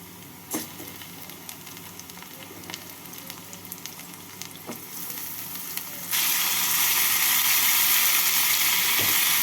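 Chicken pieces go into a pan of lightly browned chopped onions, setting off a loud, steady frying hiss that jumps up suddenly partway through after quieter sizzling and a few clinks, close by with no talk.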